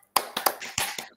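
A group claps in a quick rhythmic 'tepuk semangat' spirit pattern at an evening gathering, with about six sharp, close claps in a short uneven burst.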